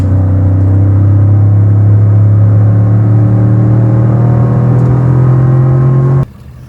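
A Ford F250 Lariat pickup with the 6.7 Powerstroke turbo diesel roars loudly and evenly up close, holding a deep rising drone for several seconds before cutting off abruptly.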